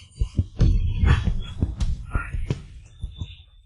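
Quick, steady thumping beats of a racing heart, close and prominent, with soft breathy noise around the pulses.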